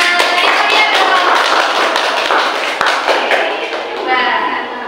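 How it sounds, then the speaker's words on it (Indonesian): A classroom group claps together in a loud burst of close, rapid hand claps that gradually thins out, with voices mixed in beneath the clapping. "Tepuk tangan buat kita semuanya."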